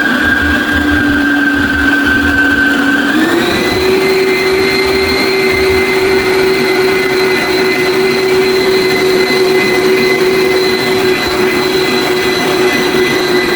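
An electric mixer beats homemade bread dough. Its loud, steady motor whine jumps to a higher pitch after a few seconds and then holds constant, close to the listener, with no speech.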